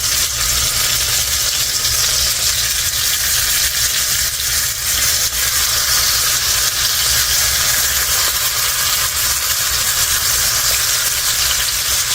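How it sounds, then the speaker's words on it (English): Steady, loud sizzling of tomatoes frying in a hot skillet, a continuous crackling hiss without pause and no voices. "Sizzle, sizzle, sizzle."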